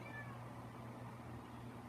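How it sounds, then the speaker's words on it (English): A house cat meows indoors, a faint, brief meow at the start over a low steady background hum, with no talking. "Do I hear a cat?"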